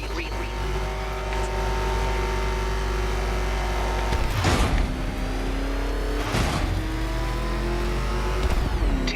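The Batmobile's engine in Batman Arkham Knight during a Riddler race, a loud steady roar that surges in repeated revs, with a voice speaking in the background.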